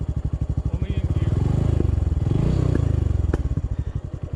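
A Honda CT125 motorcycle engine runs loud in gear, a steady rapid thumping exhaust pulse throughout that swells briefly in the middle, close and continuous with faint clatter and scraping over it.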